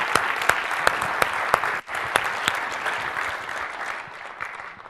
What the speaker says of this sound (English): I want to have a round of applause for.